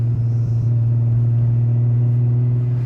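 A deep, rumbling Nissan RB25 engine with a big single turbo in a Nissan Laurel sedan, idling with a smooth, steady low tone, close and loud with no voices.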